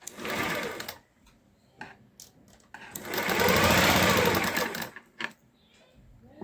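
An electric sewing machine stitches a lined shirt in short, loud runs: a brief burst, scattered clicks, then a longer steady whirring stretch and a final quick spurt, heard close up.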